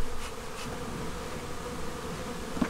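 Honey bees buzz in a dense, continuous hum right at an opened hive, close and steady throughout with no voices.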